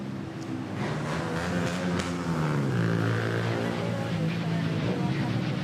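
A Philippine Airlines A320 jet departing Manila Airport, a steady rising engine roar with droning tonal hum that shifts pitch partway through, loud and sustained from nearby.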